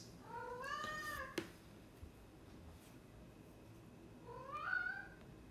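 A pet cat meowing indoors, with two drawn-out, rising-and-falling meows separated by a few seconds of quiet and faint room noise, and no talking.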